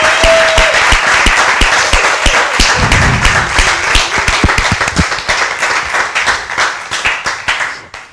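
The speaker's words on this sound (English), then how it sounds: "give them a round of applause" A studio audience applauds the contestants at the end of a quiz show, loud dense clapping that holds steady for several seconds and then starts to fade out.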